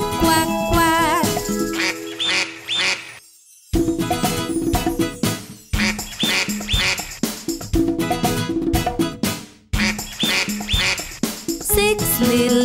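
Cartoonish duck quacks sound in a children's nursery song about little ducks, repeated in short bursts over bright, loud backing music with brief pauses between sections.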